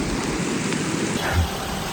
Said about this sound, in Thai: ฝนตกแบบนี้